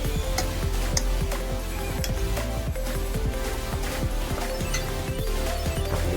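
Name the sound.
stirring spinach and dal while cooking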